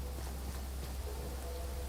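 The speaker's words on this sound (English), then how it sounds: "It's a bit rainy," Steady rain falls in the survival video game Enshrouded, a dense, even hiss with a low rumble underneath, moderately quiet and continuous with no speech.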